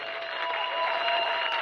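A crowd at a Congolese political rally applauds steadily for the president's speech, a dense, even wash of clapping with faint cheering mixed in throughout.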